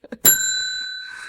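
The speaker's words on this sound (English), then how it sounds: "Oh, that bell hurts the ears" A single bright bell strike rings out loud and close after a couple of faint taps, its clear metallic tone sustaining and slowly fading over about a second.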